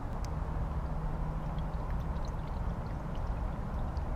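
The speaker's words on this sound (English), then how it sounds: "the key is just to make sure you pour it in slow" Prestone coolant pouring slowly into the radiator of an Infiniti G35 or Nissan 350Z, a steady close gurgling liquid stream running continuously with no talk.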